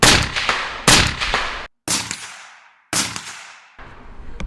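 AR pistol fired outdoors, several loud, sharp gunshots spaced about a second apart, each with a ringing, decaying echo trailing off after the crack.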